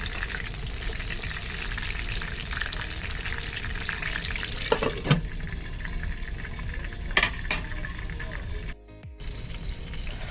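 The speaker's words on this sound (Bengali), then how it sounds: "ফার্স্ট রাউন্ডের বেগুন ভাজা চলছে।" Eggplant slices frying in oil in a pan, a dense continuous sizzle with a few clinks and stirring knocks partway through and a brief dropout near the end.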